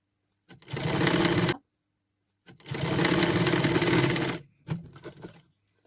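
A sewing machine stitches patchwork quilt pieces in two long, steady, close runs separated by a pause, followed by a brief final burst, with no talking.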